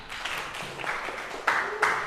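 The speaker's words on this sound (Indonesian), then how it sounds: "tepuk tangan" Scattered clapping from a group, fairly loud and brief, with a couple of sharper bursts near the end.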